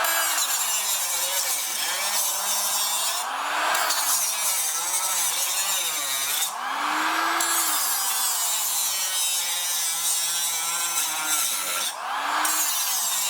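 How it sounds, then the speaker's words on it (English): Steady power-tool cutting through the rocker panel of a Mercury Sable car, a loud continuous grinding whine that dips briefly around a few pauses, close and alone with no talk. "now we're going to take here and slice this at the front corner and break it free"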